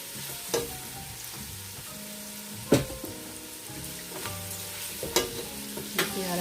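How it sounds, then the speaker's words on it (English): Sausage slices and onions searing in a pot for a one-pot chicken and sausage pasta alfredo, a constant close sizzle with occasional sharp knocks and scrapes of a spoon against the pot, no talking. "I'm gonna throw that in there and get that started getting kind of seared in with those"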